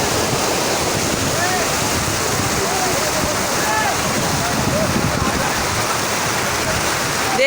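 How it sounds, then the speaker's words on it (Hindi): Fast floodwater rushing along Shahrah-e-Faisal in Karachi after heavy rain, a loud, steady roar of churning water that continues without a break from start to end. "देखें पानी की स्पीड"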